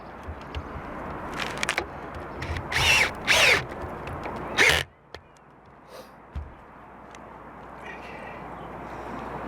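Power drill driving screws into a Whirlybird roof vent during an attic insulation job, several short loud bursts of whirring in the first half, then quieter background.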